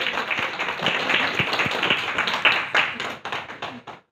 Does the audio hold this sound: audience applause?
yes